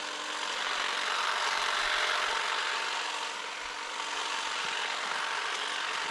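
A SAKER cordless hedge trimmer buzzes steadily while cutting small branches outdoors, a constant close whirring hum with no pauses throughout.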